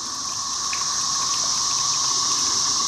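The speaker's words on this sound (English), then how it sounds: "there's a little waterfall" A small muddy waterfall flows steadily outdoors, a continuous hissing rush of water that holds even and unbroken throughout, fairly close, with no voices over it.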